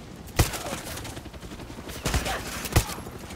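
Submachine gun shots crack three times at uneven intervals in the shooter Far Cry 6, each sharp report rising over a constant background din of game noise.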